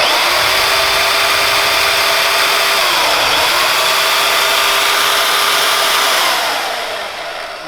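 A bandsaw cuts the metal ears off a scooter part in a shop, a steady loud whine with a slight dip in pitch midway as the blade bites, fading at the end.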